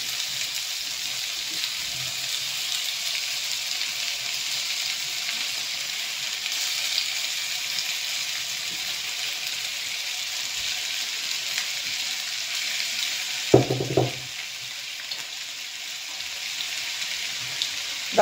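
Sliced onion and tomato cook gently in a pan for a sardine tagine, a soft steady sizzle and hiss with a brief clatter of a utensil or lid near the end, no voices.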